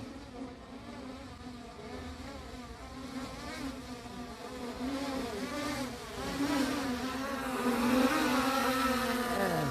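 A Skydio 2+ drone flies overhead and descends, its steady high-pitched propeller buzz growing louder and closer over the clip with no voices.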